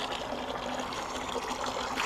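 Water running steadily from a tap or hose into a 5-gallon bucket for a bird bath outdoors, a constant close trickling gush with no pauses.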